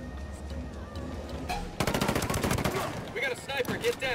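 Sniper gunfire in the tactical shooter Ghost Recon Wildlands, a quick volley of sharp shots bursting in after a quieter stretch and continuing in rapid succession, with a voice briefly heard over it.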